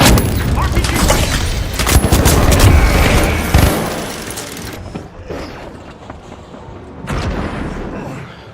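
RPG rocket blasts in the video game The Finals land as loud, dense booms and rumbling debris, then the sound drops to quieter mechanical clatter before another burst, with voices calling out over the action.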